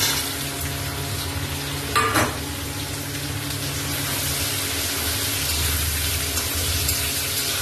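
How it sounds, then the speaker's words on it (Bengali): Onions hit hot oil with dried chillies, whole cumin, cinnamon, cloves and cardamom for a mutton curry, sizzling loudly and steadily in the pan with a brief stirring clatter early on. "পেঁয়াজ দিয়ে দেবো"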